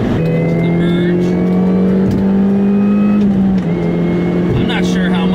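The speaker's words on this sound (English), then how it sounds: "I'm not sure how much of that supercharger whine is translating onto the camera" A Mini Cooper S merges onto a road, its supercharger giving a steady, loud tonal whine over the engine note. The pitch climbs slowly, then drops back, and a few faint clicks are heard in the cabin.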